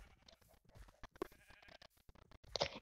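A black sheep in a video game gives short, quiet bleats among choppy game sound effects and clicks, faint and broken up.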